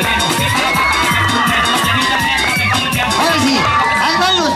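A crowd of spectators at an outdoor clown show in Chapultepec, Mexico City, cheers, whoops and shouts loudly and continuously, with children's high-pitched yells rising above a dense babble of voices.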